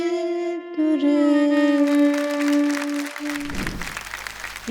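At a book launch event, a sustained sung note fades out, and audience applause breaks in for the last second or so.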